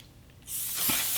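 A makeup setting spray spritzed in a continuous burst of fine hissing mist, close and fairly loud, starting about halfway through after a quiet lead-in, with no talk.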